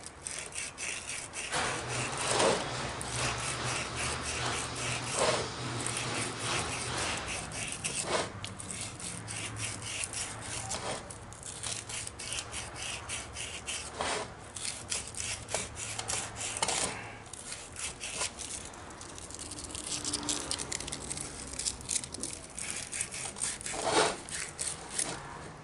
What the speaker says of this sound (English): take a piece of sandpaper and kind of chamfer this a bit